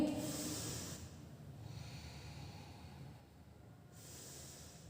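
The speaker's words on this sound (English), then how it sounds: "I am going to be breathing now" A person breathes slowly in and out, with long airy inhale and exhale sounds close up, a hissy breath at the start and another near the end, with no talking.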